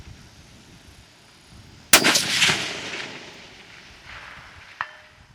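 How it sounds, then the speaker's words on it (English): A long-range precision rifle fires at a golf ball 750 yards away: one loud, sharp report that rolls off over a couple of seconds, then a faint, brief distant impact about three seconds later. "we're going to go for the golf ball shot here at 750 yards"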